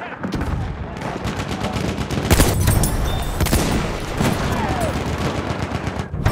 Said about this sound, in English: Feindliches Maschinengewehr.